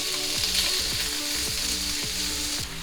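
Shrimp fry with garlic in a hot pan, giving a loud, continuous sizzle with regular scraping stirs about every half second and no voices.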